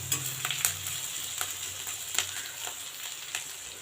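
Onions and green chillies sautéing in a pan for a cooling kuzhambu, a faint, even sizzle with light stirring taps at a steady pace.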